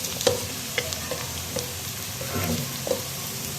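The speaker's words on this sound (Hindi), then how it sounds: "आपने साथ साथ इसको थोड़ा थोड़ा हिलाते भी रहना है ताकि नीचे से हमारे प्याज जल ना जाए" Onions frying in a pan are stirred, producing a soft, continuous sizzle broken by a few scraping knocks of the spoon at irregular intervals, moderately near and fairly quiet.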